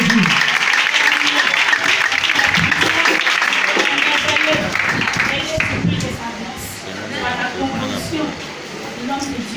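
A church congregation applauds and cheers in praise of Jesus, dense clapping and acclamation filling the space steadily before easing slightly in the final seconds.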